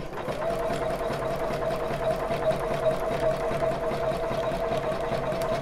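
A domestic sewing machine stitches steadily along an elastic bra band, its motor whirring in a fast, even mechanical rhythm that runs close and continuous for the whole stretch, with no talk.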